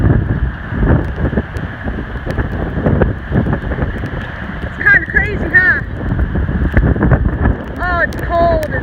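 Nor'easter wind and rain at Rehoboth Beach, Delaware, a loud steady roar of gusting wind buffeting the microphone throughout, with brief chirping bird calls cutting through near the end.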